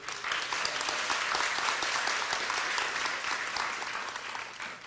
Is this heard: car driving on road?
no